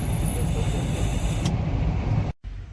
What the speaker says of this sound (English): I got a Mercedes coming past me